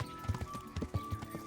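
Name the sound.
horse in Kingdom Come Deliverance video game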